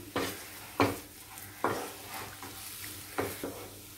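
Coriander is stirred into a thick wood apple and jaggery chutney, giving four or five soft, evenly spaced scraping strokes of a spoon against a bowl over a quiet background, with no talk.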